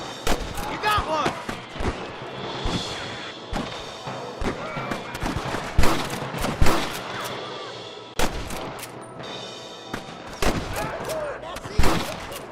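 Rapid bursts of gunfire from the Red Dead Redemption video game, loud sharp reports scattered across the scene amid shouting voices and action noise, with several close heavy shots.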